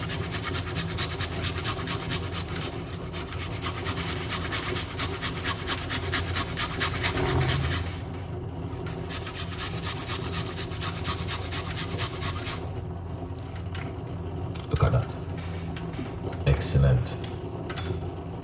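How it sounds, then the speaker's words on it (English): Fresh ginger rubbed against a grater, giving a steady, rapid rasping scrape that runs near and loud almost throughout, with brief pauses and a few louder knocks. "You don't have to grate your ginger, but grate the ginger, that's the best thing you could ever do."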